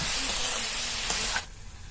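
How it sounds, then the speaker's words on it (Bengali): Wild mushrooms frying in hot oil with salt and turmeric, stirred in the pan: a steady loud sizzling hiss that cuts off sharply near the end, leaving quieter background. "নুন দিচ্ছি, অল্প করে হলুদ, নেড়ে চেড়ে ছাতুটাকে ভেজে নেব।"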